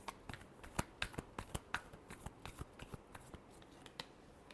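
Tarot cards are shuffled by hand at close range, a quick string of crisp riffling snaps and flicks in an irregular rhythm, quiet and with no voice over them.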